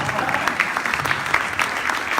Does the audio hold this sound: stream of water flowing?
no